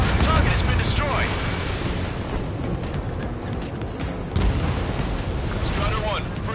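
A target exploding in the video game Ace Combat 7, a rumbling blast with dense roaring noise and a renewed boom partway through, heard over continuous jet and game sound while a voice talks.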